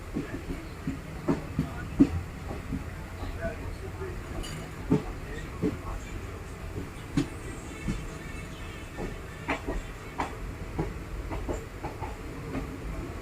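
The Kottayam-Nilambur Express pulls away from Angadipuram railway station on the Shoranur-Nilambur line in the rainy season, a low steady rumble with scattered wheel clicks and rattles heard from on board, faint and continuous.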